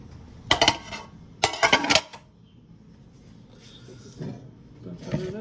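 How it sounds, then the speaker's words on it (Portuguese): A pan of chocolate popcorn is tipped into a bowl, giving two loud bursts of rattling, clattering kernels and pan knocks close by, followed by quieter shuffling as someone talks. "agora nós vamos virar essa panela dentro da bacia"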